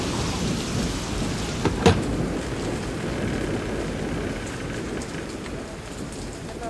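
Steady rain falls outside during a thunderstorm on an island in Lake Victoria, Uganda, with a thick continuous hiss and a sharp, close crack of thunder about two seconds in.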